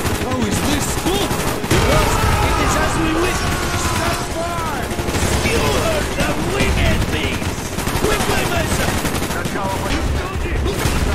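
AK rifle gunfire in the shooter game Call of Duty: Black Ops, with loud, dense bursts running the whole time over busy battle noise and effects.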